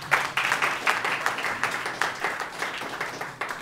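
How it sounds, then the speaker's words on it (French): An audience at a literary gathering of Ivorian writers applauds an honored guest, a sustained round of rhythmic clapping from many hands, fairly loud and pulsing steadily for several seconds with little talk. "je vous demande d'applaudir"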